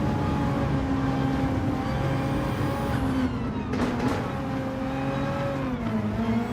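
A BMW race car engine in Gran Turismo 7 at Spa, loud and near, droning with a steady pitch that rises and then drops as it passes, with other engine noise mixed in.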